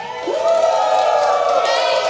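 Children and family members at a house construction update cheer and shout together in one loud, sustained collective yell, close and energetic, rising and holding for about two seconds.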